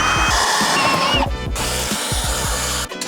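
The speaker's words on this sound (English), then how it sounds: "so I'm going to drill the last one." A power drill bores bolt holes through the floor of an Audi R8 V10 for a roll cage, whining loudly and close with chattering bursts and brief pauses between cuts.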